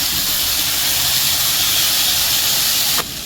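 Soaked moong dal frying in a pan over a medium flame, a loud continuous hissing sizzle close by that drops off abruptly near the end.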